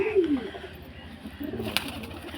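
Pigeons coo softly in a loft, a few low throaty calls rising and falling under a murky room ambience, with faint rustling and a brief click near the end.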